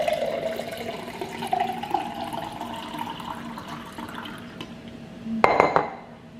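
Homemade iced tea is poured into a glass as a steady liquid trickle with a rising fill tone. A sharp clink and a louder splash come near the end, with no speech.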